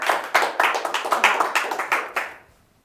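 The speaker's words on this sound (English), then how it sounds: "Give her a round of applause." A small studio audience claps together in a brief burst of distinct, rhythmic hand claps, close and fairly loud, cutting off into silence.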